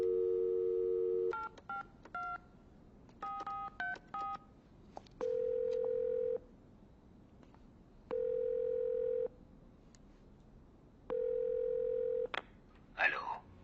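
Telephone keypad dialing tones in a horror film: bursts of touch-tone beeps punctuated by several longer steady dial-tone holds, close and clear, ending with a brief noisy click.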